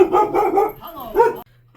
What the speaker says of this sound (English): sorry if you hear our dogs